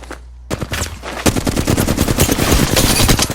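Rapid automatic gunfire in the video game Apex Legends rattles loudly in dense, fast bursts that build into a nearly continuous volley of shots.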